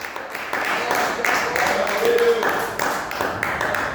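A church congregation applauds in praise during a worship service, a dense, sustained wash of clapping mixed with voices calling out, holding steady and fairly loud throughout.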